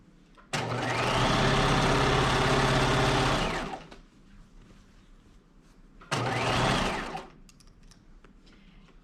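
A sewing machine stitches the top collar of a garment in two loud, steady runs, a long one of about three seconds and a shorter burst, with a pause in between where it stops with the needle down.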